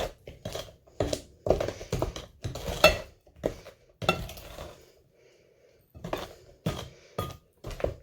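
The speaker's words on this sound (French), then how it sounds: "N'oubliez pas de bien passer sur les bords hein, pour récupérer tout le chocolat." A utensil scrapes liquid chocolate cake batter around the sides of a mixing bowl, making close, repeated scraping strokes and light clinks against the bowl in short irregular bursts.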